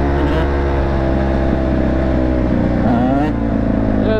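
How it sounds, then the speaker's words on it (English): A two-stroke dirt bike engine drones and revs continuously up close, a loud, buzzy, steady howl with slight pitch swings throughout. "We'll be coming in on that two-stroke."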